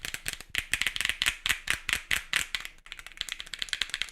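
Buttons on a small leverless Mixbox-layout controller click rapidly and crisply, close and distinct, in quick irregular bursts of many presses with short gaps, and no talking.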